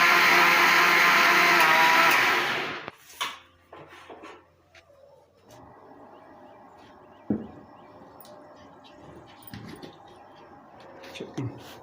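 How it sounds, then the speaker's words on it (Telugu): An electric mixer grinder whirs loudly, blending banana, milk, pistachios, cashews and almonds into a milkshake, then cuts off after two seconds, leaving quiet kitchen clatter and faint knocks. "ఇప్పుడు మిక్సీ పట్టుకుందాం."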